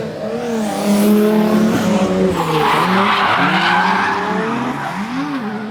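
Drift cars in a competition run slide through a corner, a loud sustained tire screech with wavering engine revs over several seconds, close and continuous.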